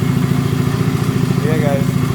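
A cold Honda CB250 motorcycle engine idles nearby with a steady, rapid low thrum and even pulsing, while a person speaks briefly over it.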